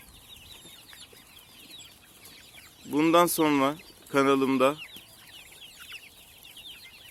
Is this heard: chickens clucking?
yes